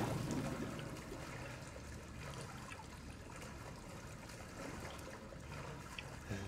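Water bubbling and gurgling in the Resident Evil 7 video game, a continuous murky trickle under a dense, steady ambient rumble throughout.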